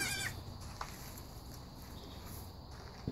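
A few faint goats, a mother and her young kid, give short bleats in a quiet pen, with light shuffling steps against a low background hum.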